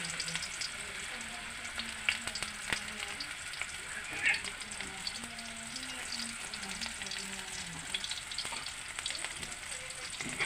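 Crab sautéing with garlic and ginger in a pan, sizzling and crackling continuously at moderate level, with scattered stirring clicks and faint background voices.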